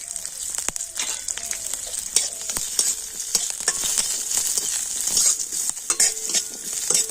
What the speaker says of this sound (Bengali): তো আদা রসুন জিরেটা আমি একটু হালকা করে নাড়াচাড়া করে নিয়েছি